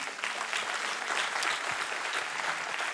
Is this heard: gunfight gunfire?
no